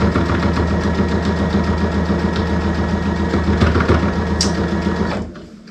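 Outdoor road workers' engine machinery runs as a continuous mid-pitched mechanical drone with rhythmic vibration, loud and steady for about five seconds before cutting off abruptly; no talking.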